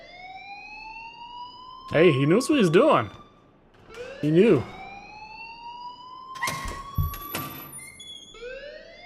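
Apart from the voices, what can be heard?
alarm ringing in the video game Life is Strange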